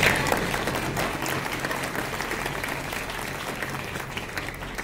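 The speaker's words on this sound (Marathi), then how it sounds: "आणि तुम्ही टाळ्या वाजवायला सुरुवात केली." An audience claps steadily through a recital of Marathi poetry, a dense, even wash of many hands that starts loud and eases slightly, with no voices over it.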